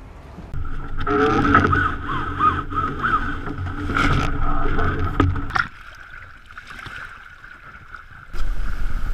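An RS 400 sailing dinghy out on the water at Lymington during the Bart's Bash race, with steady wind and water noise, hull slapping and creaking through the first half, then a quieter stretch before the rush picks up again.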